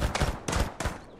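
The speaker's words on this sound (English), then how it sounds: "I'm still getting shot through a rock." Enemies open fire in Mist Survival, three sharp, loud gunshots spaced evenly over about a second, each ending in a short ringing tail.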